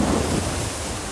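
Hurricane storm surge waves surge and wash in a brief, dense roar of churning water mixed with wind buffeting the microphone, loud and continuous.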